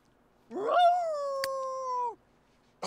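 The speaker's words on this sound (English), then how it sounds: "Werewolf howl at the moon." A single long howl from a werewolf in The Sims 3, rising into a sustained steady tone for over a second and then dropping off, clear and close against a quiet background.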